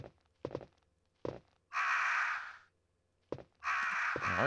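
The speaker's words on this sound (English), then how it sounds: "art gallery full of crows." Crows caw in an art gallery room of the PS1 game Resident Evil, with two long, raspy caws separated by short thudding footsteps in an otherwise quiet space.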